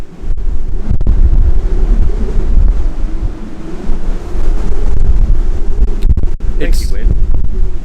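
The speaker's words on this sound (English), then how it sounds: "Today's episode is sponsored by our non-sponsor, which is wind. You can hear it and feel it everywhere." Strong wind roars across the open deck of the Ovation of the Seas cruise ship near Juneau, Alaska, buffeting the microphone in loud, continuous gusts with a couple of brief dropouts.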